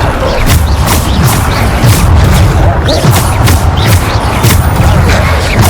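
Repeated Bombarda spell explosions in Hogwarts Legacy, loud booming blasts and crashing impacts firing in quick rhythmic succession over dense, constant combat din.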